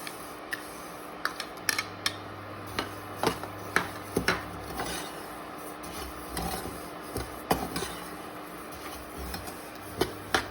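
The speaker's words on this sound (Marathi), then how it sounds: "यानंतर आता आपण जिरे भाजून घेऊयात" Cumin seeds dry-roasting in a pan give a soft continuous rustling scrape, broken by scattered sharp clicks and ticks as the seeds are stirred and shift against the metal.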